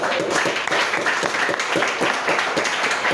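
Sustained applause from a school club inauguration audience welcoming a guest, dense steady clapping of a crowd close by throughout.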